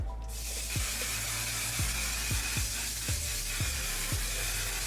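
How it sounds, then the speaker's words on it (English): One Size On Till Dawn mattifying waterproof setting spray misted over a face, a steady close hiss running the whole time, with a few soft clicks or taps underneath. "Now I'm gonna take the One Size On Till Dawn mattifying waterproof setting spray"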